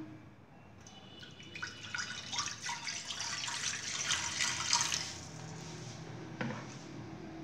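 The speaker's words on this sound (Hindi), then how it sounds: "प्रेशर कुकर में 2 कप पानी ऐड करूँगी।" Two cups of water poured into a pressure cooker before boiling onion and garlic, a close trickling, splashing pour that builds and then fades, with no talking.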